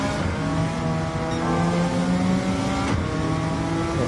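A Suzuki Escudo race car in Gran Turismo 7 revs hard, its loud, continuous engine note buzzing with layered harmonics that rise and shift between gears, close and with no talking.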